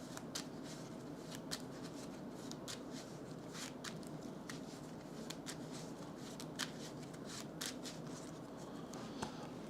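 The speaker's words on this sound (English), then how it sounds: "and then we're going to shuffle" A deck of cards is shuffled repeatedly during a Mage Knight board game session, giving soft, rapid riffling and flicking sounds that run steadily and quietly throughout.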